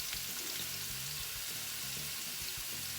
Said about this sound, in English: basically what we're going to do here is just brown the meatball